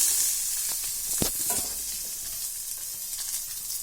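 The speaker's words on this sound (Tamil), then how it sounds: "நல்லா ப்ரௌன் கலராக வர வரைக்கும் நம்ம வதக்கிட்டே இருக்கணும்" Chopped onions sauté in a pan for aval upma, cooking toward brown with a bright, continuous sizzle, a couple of louder spoon scrapes early on, then a steady close hiss.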